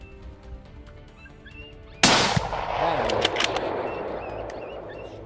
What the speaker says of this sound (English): the hunter immediately takes aim with an infrared scope rifle and kills it with precision